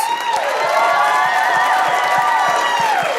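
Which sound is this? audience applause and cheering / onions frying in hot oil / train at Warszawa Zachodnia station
audience applause and cheering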